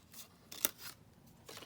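Scissors snipping through collage paper, a few quiet, close, crisp cuts spaced unevenly.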